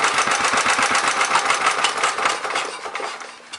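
A 1934 Briggs & Stratton Model A engine powering a Wall-Quincy air compressor chugs with a fast, even, knocking beat, loud and close, then eases slightly and tails off near the end.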